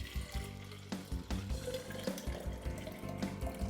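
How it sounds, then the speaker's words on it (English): Homemade Jamaican lemon drink poured into a container, a continuous close splashing and gurgling stream with small irregular bumps, quiet and with no voices. "So what we want to do, we want to pour it into a container like this."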